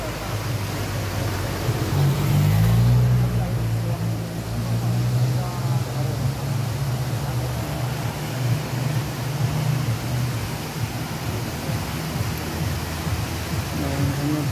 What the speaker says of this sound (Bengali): দেখেন খুব সুন্দর ঝর্ণা। ঝর্ণার কি আওয়াজ!